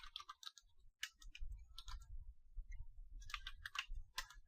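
Someone types on a computer keyboard while entering commands. Quiet, close key clicks come in quick irregular clusters with brief pauses, and no voice is heard.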